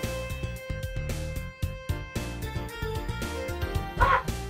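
Dogs bark and yip repeatedly in the cyberpunk bartending game VA-11 Hall-A, sharp close barks layered over steady electronic background music, with no one talking.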